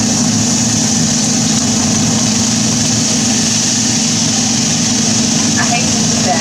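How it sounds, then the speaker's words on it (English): A kitchen exhaust fan runs while bacon fries, making a loud, unbroken low hum and airy rush that holds steady the whole time. "Excuse my fan for a minute because I don't want the smoke detector to go off."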